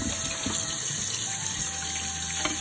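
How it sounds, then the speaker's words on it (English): Beets being washed under a running kitchen sink tap, a steady close rush of water pouring continuously at even loudness with faint handling sounds underneath and no talking. "This is my wife Beverly, and she's washing beets in the kitchen sink."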